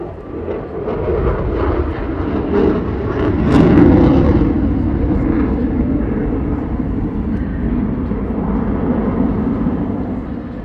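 A U.S. Air Force Thunderbirds jet makes a slow speed pass over the Chicago Air and Water Show, a loud, steady engine roar that swells slightly midway and stays sustained throughout, with no talking.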